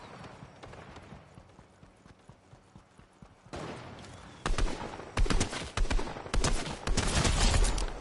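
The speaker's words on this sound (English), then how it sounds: "Who the bloody hell's shooting my backside?" Gunfire in the video game Fortnite, quiet at first, then a loud stretch of rapid, repeated shots in bursts during the second half.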